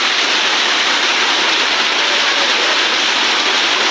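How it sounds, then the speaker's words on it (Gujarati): Heavy monsoon rain pours down as a loud, steady, unbroken hiss, close and with no talk over it. "આમ જો કેવો મસ્ત મજાનો વરસાદ આવે"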